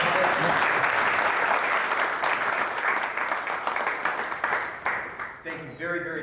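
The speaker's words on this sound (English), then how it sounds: "Round of applause to our Rick" An audience at a business panel event applauds a speaker, a full round of clapping that thins into separate claps and fades, with a voice starting to speak at the end.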